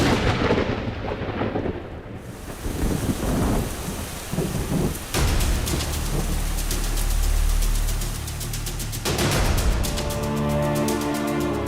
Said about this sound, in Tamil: மழை நம்மளை நோக்கி வேகமா வந்துகிட்டு இருக்கு சார்